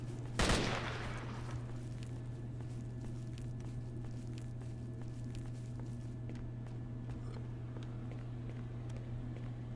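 One sharp, loud gunshot opens a S.T.A.L.K.E.R. Shadow of Chernobyl scene, followed by faint scattered pops and clicks over a steady low hum.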